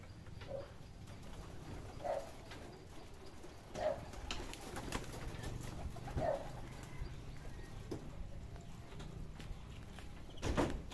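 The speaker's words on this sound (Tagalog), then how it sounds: "isa na namang ikinulang kalapati" Pigeons, Zion Koopman racing stock, coo in soft repeated bursts about every two seconds, moderately near, over a steady low background hum without talk.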